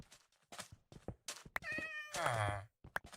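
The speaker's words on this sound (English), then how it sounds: "I hear a kitty cat." A Minecraft cat meows once, a drawn-out rising and falling mew, faint and close, amid soft clicks and game sounds with a voice talking briefly around it.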